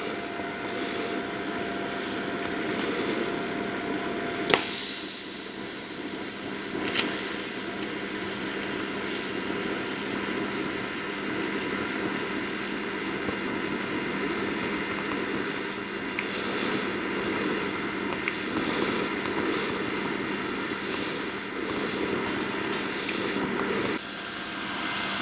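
Steady buzzing hum of an Arccaptain TIG 205 Pro TIG welder fusing a stainless steel exhaust header, continuous and close for the whole stretch with a brief sharp onset partway in.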